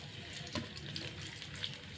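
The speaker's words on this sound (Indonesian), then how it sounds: "Saya mau tumis terlebih dahulu." Sliced shallots sautéing in hot oil in a pan, giving a soft, continuous sizzle and hiss at low volume with faint stirring clicks.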